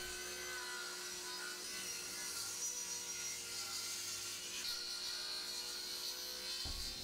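A saw cutting a rebate along oak moulding clamped against a fence: a steady, continuous machine whine with a hissing, rasping cut running through, close by and without speech.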